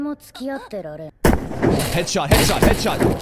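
Heavy gunshots from the Saga of Tanya the Evil anime movie burst out loudly and roll on as booming, dense fire, following a brief spoken voice at the start.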